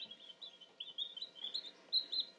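Newly hatched baby chicks peep in a steady run of high, thin chirps, close and fairly clear, with no talking over them.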